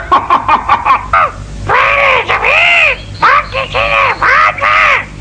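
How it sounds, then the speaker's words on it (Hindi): A cartoon parrot squawks in a rapid run of harsh, loud calls, choppy bursts giving way to longer rising-and-falling screeches, close and alone with no talking. "अरे ये तो मीना का तोता है।"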